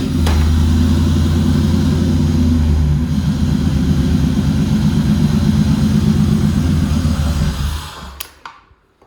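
A 1993 LT1 V8 engine in a hot rod idles in a garage with a lumpy, rumbling rhythm, loud and near, then cuts off and fades to silence near the end.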